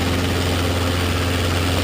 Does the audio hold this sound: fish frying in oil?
no